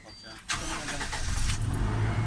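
A 2007 Toyota Innova gasoline engine cranks and catches, then runs at a close, rumbling idle with someone talking over it.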